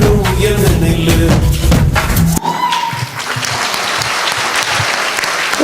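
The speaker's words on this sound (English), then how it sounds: "They really deserve a great round of applause." Loud audience applause in an auditorium after a power-packed dance performance by women dressed in black, dense clapping from the start that thins into a lighter, scattered patter.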